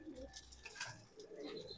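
Madrasi Punjabi pigeons coo softly and repeatedly in a small, close flock, with a few chirpy calls mixed into the low, rolling murmur.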